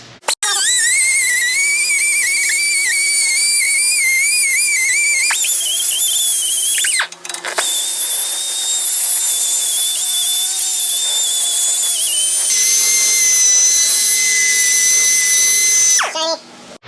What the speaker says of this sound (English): we'll just come on in with our little Ziz wheel here,